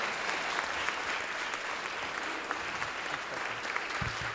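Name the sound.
audience applause after masterclass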